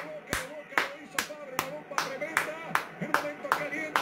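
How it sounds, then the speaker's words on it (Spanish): A lone River Plate football fan claps at a steady, even pace after a goal, about ten sharp close claps with a quiet room behind them. "Hay que aplaudir"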